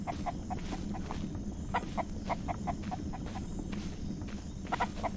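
Chickens cluck in short, soft bursts in the survival game Mist Survival, scattered over a dull, constant outdoor background rumble at moderate distance.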